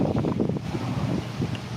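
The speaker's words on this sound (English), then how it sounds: "It's windy." Gusty wind blowing outdoors on a sunny day, a constant rushing roar with buffeting against the microphone and no voices.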